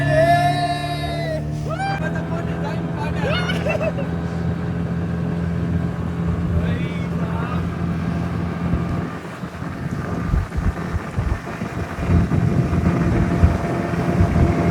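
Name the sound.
speedboat running on water with wind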